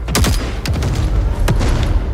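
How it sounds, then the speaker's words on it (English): Three soldiers in a Ghost Recon game trailer fire their guns in loud, close bursts of gunfire, several sharp shots and rapid volleys cracking out in quick succession with no talking. "3 soldiers rush into battle firing guns"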